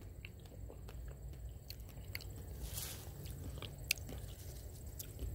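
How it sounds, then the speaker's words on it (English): Someone chews Black Madeira figs up close, with soft, moist squishing bites and faint crunches of the seeds at an irregular pace, quiet and with no talking. "And the seed crunch, wonderful."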